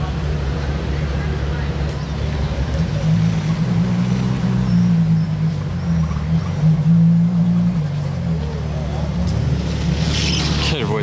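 A Ferrari 812 GTS drives by with a deep, steady engine drone that holds fairly loud and close, rising slightly in the middle, with no one speaking over it.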